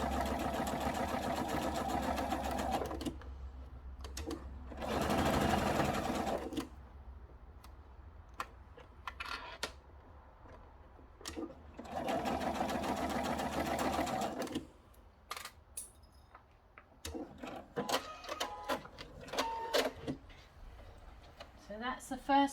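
A sewing machine stitching a French seam in fabric, running in steady mechanical bursts of several seconds with quiet gaps, while a person talks in between.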